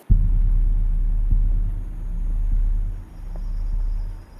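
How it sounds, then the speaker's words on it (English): A flash flood surges through a formerly dry desert wash near Temple Mountain, heard as a steady deep rumble with throbbing low-frequency pulses and a few faint knocks. "This is a flash flood. It's a river, and this was a dry wash"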